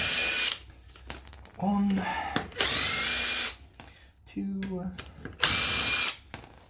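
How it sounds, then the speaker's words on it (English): Several short, loud bursts of an impact wrench whirring and rattling as wheel bolts come loose on a Morris Minor, with a man counting aloud in the pauses. "Thankfully, I've got power tools,"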